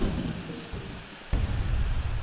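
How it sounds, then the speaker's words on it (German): Thunderstorm in Plants vs. Zombies: steady heavy rain hiss with a rumbling roll of thunder that swells sharply past the midpoint, loud and close. "jetzt kommt ein Gewitter"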